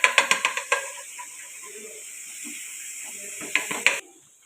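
Garlic-ginger paste frying in a pan as a steady bright sizzle throughout, with a burst of quick stirring clicks at the start and again near the end before the sizzle suddenly drops away.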